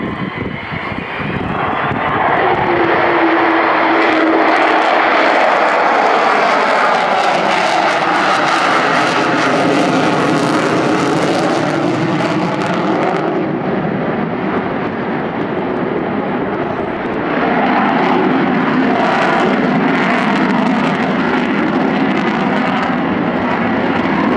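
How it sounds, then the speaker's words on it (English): A deep, powerful roar of four Rolls-Royce Olympus 202 jet engines fills the air as an Avro Vulcan bomber passes and climbs at an air show, swelling and shifting in pitch, loud and continuous. "Magnificent sound of 4 Rolls-Royce Olympus 202 engines,"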